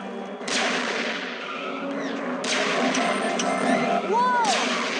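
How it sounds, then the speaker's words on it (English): Robots fire at the player in the Transformers Rescue Bots video game. A few broad, sharp blasts cut through a constant roar of vehicle engines and whooshing effects. "They're shooting at us!"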